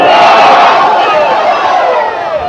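A large rally crowd roars a slogan response in unison, a loud sustained collective shout that slowly fades over a couple of seconds.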